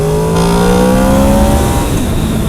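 A Honda VFR motorcycle engine with VTEC revs hard, its loud, close whine climbing in pitch and then falling back as the throttle eases, with no talking.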